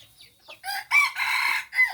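A crossbred rooster crows in the evening, close and loud, in a few choppy bursts that build into a strained drawn-out call, then a short final note.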